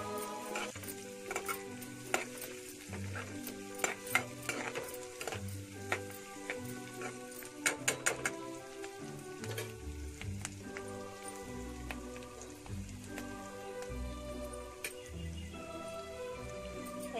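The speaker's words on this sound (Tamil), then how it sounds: "ஒன்று ரெண்டாக நசுக்கி வச்சுருக்க பூண்டை போட்டு நல்லா சேர்த்து பண்ணிக்கோங்க." Crushed garlic is stirred into thuyili keerai greens frying in a pan, light sizzling with quick clicking taps of a spoon, all beneath steady background music.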